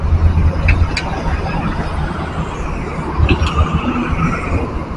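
A bus drives past on a Sumatran road with a steady, rumbling engine and road noise. The sound is close and fairly loud, with brief louder surges and clattering in the middle.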